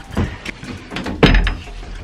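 A wooden door of a Hobbit Hole glamping stay in New Zealand is pushed shut, a short sequence of light knocks followed by a solid close thunk.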